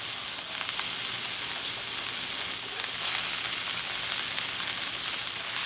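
Vegetables sizzle steadily in butter and a little sesame oil on a stovetop burner set to 6, a loud, continuous hiss with a few faint stirring scrapes and no talking.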